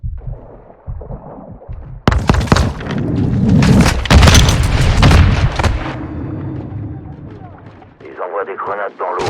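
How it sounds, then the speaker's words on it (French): Grenades exploding in water during a Call of Duty Modern Warfare 2 campaign mission, heavy booming blasts with churning, splashing rumble sustained for several seconds, followed by quieter activity; voices speak over the action. "Ils envoient des grenades dans l'eau."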